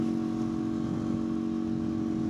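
A motorcycle cruises along with a steady, droning engine hum heard close from the rider's position.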